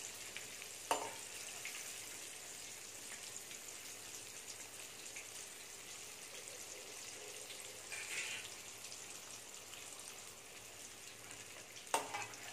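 Chicken pieces and curry leaves fry in hot oil, giving a steady, fairly quiet sizzle with a few faint clicks of stirring and no talk.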